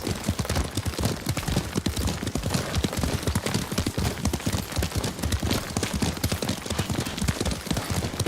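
Horse hooves clip-clop at a steady riding gait in the Ghost of Tsushima video game, a continuous rhythmic beat of close, fairly loud footfalls carrying through the whole stretch with no talk over it.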